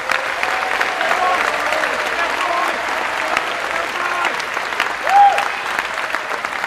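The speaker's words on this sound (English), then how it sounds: "If we could give all these folks a round of applause." A school athletic recognition night audience gives sustained applause for award winners, a steady, moderately distant wash of many hands clapping with faint crowd murmur underneath.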